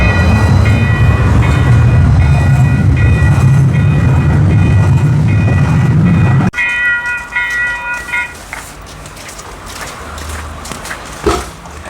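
Calgary C-Train light rail train in a snowy city, a loud steady rumble and hiss of the train close by that cuts off abruptly midway, leaving quieter wheel clatter and street ambience.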